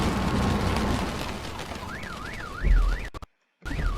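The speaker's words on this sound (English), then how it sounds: "Everyone's car alarm's going off at this bloody point." Car alarms going off in a racing video game, a warbling alarm tone rising and falling over engine and game noise, cut by a brief dropout before the alarm resumes.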